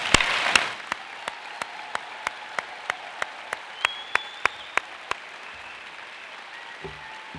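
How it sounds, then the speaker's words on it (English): Applause at a university convocation for the graduating class of 2017: a short burst of clapping dies away into sparse, evenly spaced single claps, then near quiet with faint room noise. "They deserve one final applause from us."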